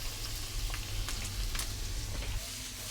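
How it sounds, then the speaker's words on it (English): Garlic and onion fry in hot oil for a Panang chicken curry, giving a soft, steady sizzle with light crackles throughout. The sound is fairly quiet and close, with no talking. "let's whack some olive oil in, or some oil, and we'll add in the garlic and onion"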